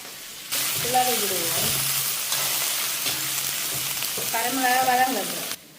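Chillies sauté in a pan with a loud, continuous close sizzle, and a voice briefly murmurs over it twice.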